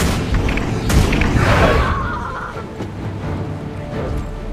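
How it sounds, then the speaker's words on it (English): A trebuchet is destroyed in Guild Wars 2 PvP combat with a loud booming crash that swells over the first two seconds, then settles into a rumbling tail under scattered game noise. "Your trebuchet's been destroyed."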